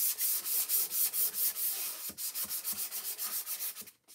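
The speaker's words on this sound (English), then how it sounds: "I like to sand it lightly with 400 grit sandpaper so it's nice and smooth for my stencils" A painted surface is lightly sanded by hand with 400 grit sandpaper: quick, steady back-and-forth rubbing strokes, close and fairly loud, with a short pause and a slower, softer run of strokes near the end.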